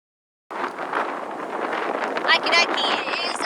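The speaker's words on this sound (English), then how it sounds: "it is rather windy" Gusty wind buffets the microphone aboard a small boat motoring toward the Mooloolaba bar, a rushing roar that starts abruptly and swells in gusts, with brief voice-like sounds mixed in.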